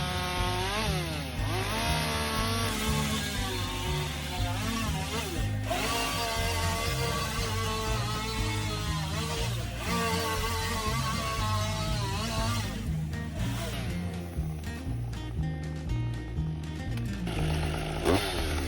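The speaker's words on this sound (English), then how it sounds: "make several boring cuts in the bole of the tree to create a hole in the trunk." Chainsaw boring repeated cuts into the trunk of a hung-up tree during pre-commercial thinning, a loud, close engine snarling steadily throughout with rising and falling revs as the bar plunges in.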